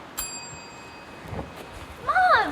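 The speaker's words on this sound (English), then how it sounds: "nobody ever answers that bell" A hotel service bell gives one bright ding that rings out and fades, and a short voice follows near the end.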